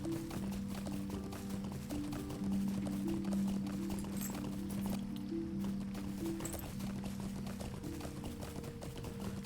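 Rapid, rhythmic hoofbeats of a horse clip-clopping at a quick pace over a steady low hum, with no voices, in the video game The Lord of the Rings Online.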